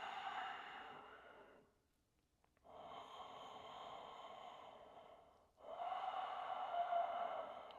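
Deep yogic breaths fill a quiet room: a long slow inhale-exhale, a pause, then another full drawn-out breath, close and steady.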